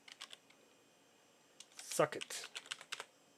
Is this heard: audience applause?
no